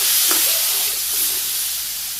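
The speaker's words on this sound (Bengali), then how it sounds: "আলুগুলো ছেড়ে দিলাম আলুগুলো এখন কষিয়ে দিলাম" Potatoes dropped into hot oil with cumin in a pan, a loud continuous bright hiss of frying that fades slightly, close and without talk.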